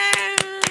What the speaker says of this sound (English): We don't need to clap for everything.